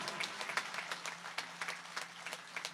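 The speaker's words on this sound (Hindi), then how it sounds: "मैं चाहता हूं एक बार पूरा सदन जरा जोरदार तालियां बजा करूं।" A crowd at an outdoor Hindi poetry gathering on a middle school ground in Harda claps together, a faint, distant, dense patter of hands running steadily throughout.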